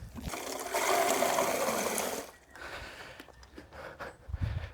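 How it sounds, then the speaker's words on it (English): Water splashing and pouring onto freshly planted sunflowers and nasturtiums on a hot day at an allotment, a steady close gush for about two seconds, then quieter trickles and drips. "Get these watered in as well, these sunflowers and nasturtiums."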